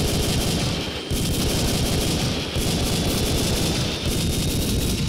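Sustained rapid gunfire from the arcade shooter Time Crisis, loud and dense with near-continuous bursts, broken only by brief gaps about every second and a half.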